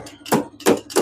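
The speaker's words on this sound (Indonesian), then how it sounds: "kemudian kita ketok pakai palu begini" A hammer taps a used 6301 motorcycle wheel bearing three times in quick succession, sharp close metallic knocks evenly spaced.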